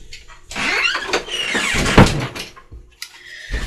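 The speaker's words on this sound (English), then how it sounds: "So I didn't shut my door though." A home art studio door swung and pushed shut, a creaking squeal followed by a rattling thud of the latch, then brief quieter knocks, close and loud without talk.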